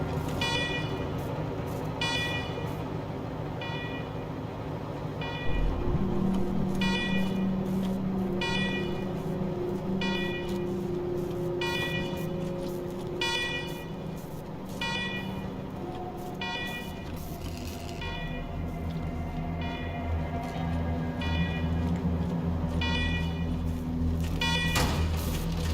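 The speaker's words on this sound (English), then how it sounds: "Yep, noisy alarms and all." Alarms blaring in the video game Wasteland 3: a loud, steady pulsing electronic siren with repeating beeps that runs without pause, over a low droning background hum.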